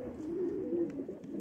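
A white homing pigeon coos softly and briefly, one low rolling coo repeated twice in quick succession, close and alone.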